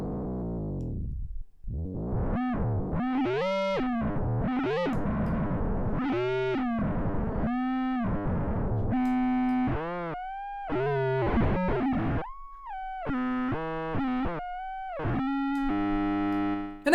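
Chaotic synthesized noise from a Max/MSP patch: a run of loud, harsh, pitch-bending electronic tones, distorted and buzzing, swooping and stuttering in irregular bursts across the whole stretch.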